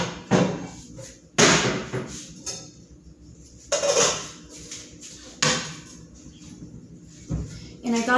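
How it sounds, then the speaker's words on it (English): A pan is pulled out of kitchen storage for cooking pinto beans. Several loud clattering bangs and scrapes of cookware and cupboard come in separate bursts, with someone talking nearby. "So let's go ahead and get that pan out."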